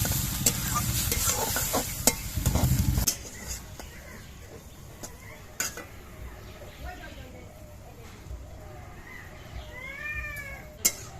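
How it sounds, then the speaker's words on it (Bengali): Prawn heads fry in a pan with a loud, steady sizzle and a few stirring knocks at first, then fade to a quieter crackle while a cat meows faintly near the end. "মাথাগুলো ভাজতে খুব একটা সময় লাগবে না"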